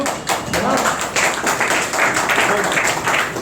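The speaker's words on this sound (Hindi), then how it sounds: "हाँ, इसकी ताली बन रही है।" An audience at a guest speaker's talk in an IMC center hall in Varanasi claps together, a dense, fairly loud patter of many hands with rhythmic surges throughout, no speech over it.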